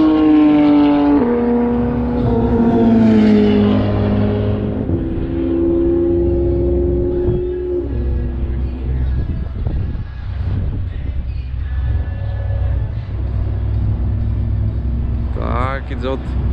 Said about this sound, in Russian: Так, идет гонка между Поршем и Феррари.